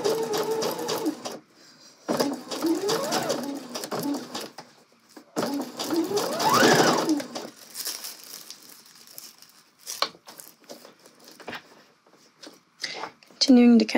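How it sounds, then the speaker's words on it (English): A sewing machine stitches the gathered fabric of a skirt in several bursts of running, with pauses between them and a closing rustle of cloth. "as I'm sewing, I'm just kind of pulling the skirt smooth, making sure there's no weird bumps or anything in the gathers"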